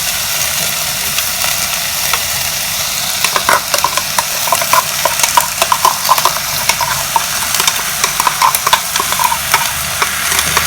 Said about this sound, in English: So now we will mix this. And we will add the grinded masala paste to it.